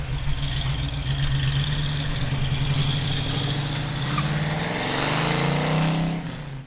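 A 1968 Chevrolet Camaro in tuxedo black with a 4-speed idles steadily, a deep, even engine rumble that holds close and loud throughout, swelling slightly near the end with no talk over it.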